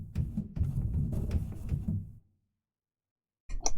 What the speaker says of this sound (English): Pedal noise maxed out.